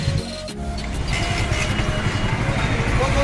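A Hero Honda Splendor motorcycle, which has an engine sound problem, fires up after a brief starter burst and settles into a continuous, close, rough idle without talk.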